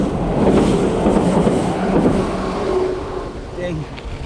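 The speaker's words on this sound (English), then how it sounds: "that train's really loud right there" A loud train rumbles past nearby on a gravel route in Japan, a steady broad roar with a faint squeal near the end, heard over wind noise.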